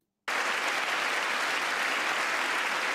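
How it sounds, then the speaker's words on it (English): Audience at a State of the Union address standing and applauding, a sudden onset of dense, sustained clapping from a large crowd in a big hall, steady and even after a brief silence. "these people are getting up and clapping"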